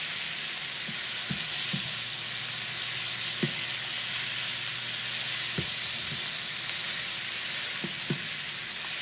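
Thawed shrimp sauté in oil in a pan with a steady, loud sizzle. A few soft utensil clicks and taps come through now and then.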